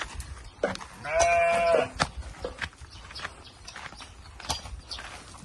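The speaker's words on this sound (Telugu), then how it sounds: "గొర్రెలు ఇవి, మేకలు కాదు గొర్రెలు." A sheep lets out a loud, wavering bleat, followed by scattered rustling and knocks from animals moving nearby.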